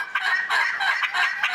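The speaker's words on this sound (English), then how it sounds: "Can you hear the turkeys?" Wild turkeys gobble in a series of rapid, rattling bursts that repeat roughly every half second, fairly loud and close with no talking.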